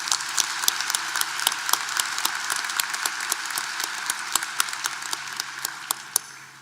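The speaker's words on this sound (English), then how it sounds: "Please join me in a round of applause for our faculty." Audience applause at a university commencement ceremony, steady distant clapping spread through a large hall, moderately faint and continuous throughout.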